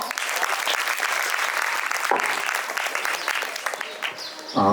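An audience at a children's poetry gathering claps loudly and steadily right after a recited poem, the applause thinning briefly before a final burst at the end.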